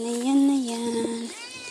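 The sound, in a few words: cat meowing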